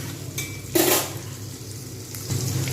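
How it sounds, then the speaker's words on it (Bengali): Potatoes and onions fry together in a pan for a pointed gourd and masoor dal khichuri, making a low crackle with a brief clatter of pan or utensil and a short burst of sizzle. No voices are heard. "আলু পেঁয়াজ কিন্তু একসঙ্গে ভাজা হতে থাকবে"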